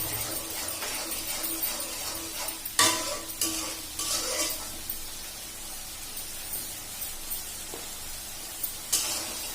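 Sizzling and stirring in a pan of frying curry as cut pointed gourd and potato go in, with sharp bursts of sizzle and clinks of utensils against the pot over steady frying hiss, no talk.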